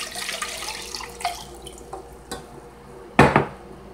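About three cups of water are poured for a bread pudding topping, with clattering and splashing in a kitchen that ends in a loud, sharp clank.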